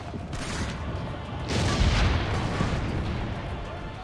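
Deep booming cannon blasts rumble in Assassin's Creed Brotherhood, a low continuous roar swelling midway, with no speech.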